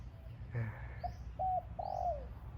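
Soft, hollow dove coos repeat a few times at moderate distance, with faint chirps and a steady low background hum.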